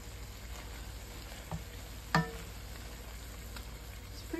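Stewed okra with homegrown vegetables sizzles gently in a pan over medium-low heat, a soft continuous frying crackle with a single brief clack of a utensil partway through.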